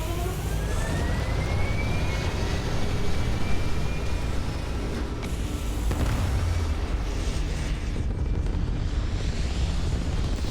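A spaceship taking off in the Starfield video game: a loud, continuous engine roar with rising whooshing tones that sweep upward, sustained throughout without speech.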